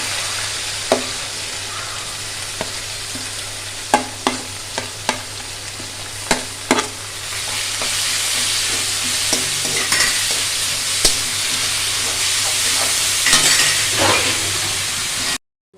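Onion and chana dal fry in hot oil with a steady sizzle, while a spoon scrapes and clinks against the pan in scattered stirring strokes, loudly and up close.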